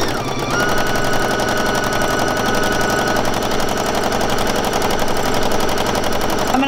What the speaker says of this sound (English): So I'm just going to do a little bit of stitching.